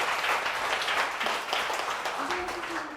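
A lecture audience at a women's leadership academy applauds to welcome the speaker, a dense, steady clatter of many hands, with a voice briefly cutting through near the end.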